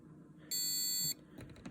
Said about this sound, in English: hopefully you can hear that beep, which is the buzzer that goes off for the intruder